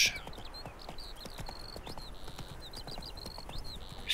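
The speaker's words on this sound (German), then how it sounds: "Oh, da ist mein Pferd." The horse Roach trots in The Witcher 3, its hooves making a steady, fairly quiet clip-clop rhythm against a soft ambient background, with occasional bird-like chirps overhead.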